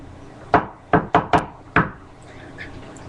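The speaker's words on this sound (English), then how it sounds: "So I knocked." Five sharp knocks rap on a wooden surface in an uneven shave-and-a-haircut rhythm, close and loud, followed by quiet room tone.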